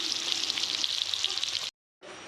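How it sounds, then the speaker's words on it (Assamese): Pumpkin and potato pieces fry in a pan, giving a steady close sizzle that runs for most of the stretch, breaks off into brief silence and then resumes. "ৰঙালাও আলু ফ্ৰাই কৰা হৈ গ'ল আমাৰ।"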